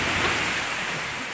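Sea waves washing onto the shore at Sitio Nipa, Barangay Gogon, Camarines Sur, a steady hissing surf heard close and continuous with no distinct break, alone without voices.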